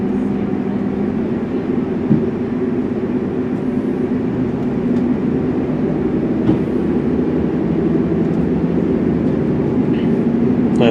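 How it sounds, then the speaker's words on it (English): A Transport for Wales class 158 diesel train runs past at a station near Shrewsbury, its steady loud engine drone and rolling wheel noise filling the whole stretch with no speech. "That's working the 2150. Transport for Wales service to Aberystwyth, that's 158828."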